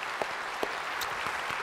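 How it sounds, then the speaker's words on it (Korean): A church congregation claps together at a sermon in honor of the city mayor, steady, moderately distant applause with a few sharper claps standing out. "우리 시장님 박수 한번 쳐드립시다"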